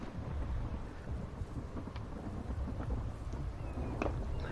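Thunder rumbles low and continuous beneath steady rainfall during a thunderstorm in The Infected video game, with scattered drop ticks and a sustained roll throughout.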